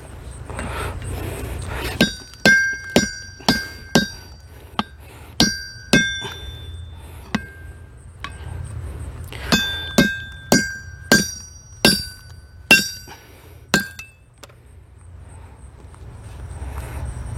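Sharp metallic clinks ring out as the end of a forged bodkin arrowhead is cut off, a run of about fifteen bright, ringing strikes in irregular bursts over a low background rumble, with no voices.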